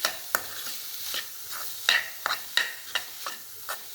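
A spatula stirs radish and lentil usili in a pan, with repeated sharp scraping strokes over a soft frying sizzle and no talk.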